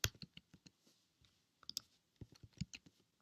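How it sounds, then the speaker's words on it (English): Sharp, quiet computer mouse clicks, several in quick succession with short gaps, sounding close and dry in an otherwise silent room, pressing a Login button. "And click Login."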